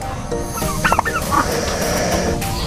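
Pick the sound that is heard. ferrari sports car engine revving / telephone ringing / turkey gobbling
turkey gobbling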